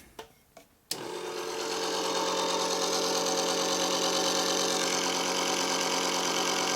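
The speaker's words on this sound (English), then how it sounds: "So if we turn on our fuel pump," A fuel pump on a Harley 650 single XL Sportster land-speed racer: a few clicks, then a steady electric whine that starts abruptly and holds evenly at close range, no voices.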